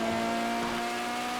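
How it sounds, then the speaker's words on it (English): A CW19 open-wheel race car in GTA FiveM drives at speed, its engine a steady, loud high-pitched drone throughout with little change in pitch. "Now we've got the most modern open wheel car on the server."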